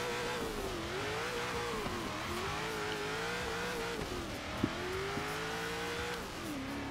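A Hot Wheels car in Forza Horizon 3 revs hard and steadily, its engine pitch rising and dipping through repeated gear changes, loud and close with a brief sharp knock partway through and no voices.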